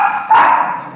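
Dogs bark sharply in a brief, loud, close outburst, recorded somewhere out in the bush.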